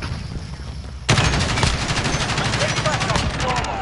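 Rapid automatic gunfire from a gun in Call of Duty bursts in suddenly after a quiet moment and continues loud and sustained to the end.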